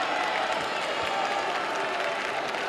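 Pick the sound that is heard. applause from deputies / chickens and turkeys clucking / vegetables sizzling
applause from deputies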